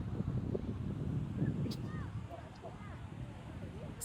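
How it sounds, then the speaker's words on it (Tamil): Strong sea wind buffeting the microphone at Besant Nagar beach in Chennai, a steady low roar with people chatting over it and faint high squeals drifting in behind. "செம்ம காத்து நல்லா இருக்கு."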